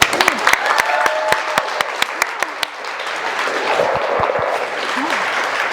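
An audience at a holiday open house applauds to welcome a speaker named Kim Rossi, starting with sharp individual claps and then swelling into sustained, dense clapping from a sizable crowd.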